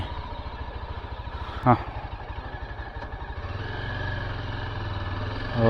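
A Nandhi motorcycle climbing a hill road toward Maruthamalai temple, engine held in second gear, a steady close throbbing putter with a brief sharp knock partway and rising revs near the end.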